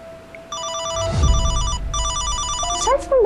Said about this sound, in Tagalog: Cellphone ba yun ni Mahal?